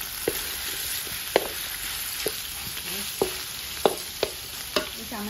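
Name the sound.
pork belly frying in a pan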